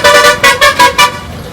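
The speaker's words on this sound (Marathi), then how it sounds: "सो इकडे वेगळ्या प्रकारचे हॉर्न वाजतात" Vehicle horns near the Goa bus stand, a loud series of about five quick close toots in a rhythmic burst, then fading into traffic background.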